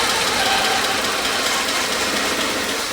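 A Porsche 944 that has been sitting for a long time runs on its engine, giving a steady, loud, close mechanical rumble with a slight knock and vibration. No one speaks over it.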